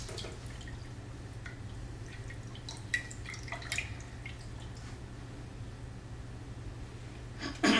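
Water drains through a paper coffee filter set in a funnel, giving faint scattered drips and trickles over a low steady hum, ending with a louder splash.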